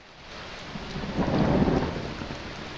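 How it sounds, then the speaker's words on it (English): Video game ambience of rolling thunder from a lightning strike over steady rain, swelling to a broad rumble midway and fading back into the rain, with no voices. "You have some lightning strikes."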